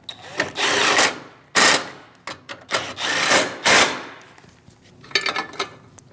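Two 10mm bolts are driven home on a radiator in a 2016-2025 Chevrolet Malibu 1.5L L4, heard as several close, loud bursts of whirring, rattling tool noise separated by short pauses.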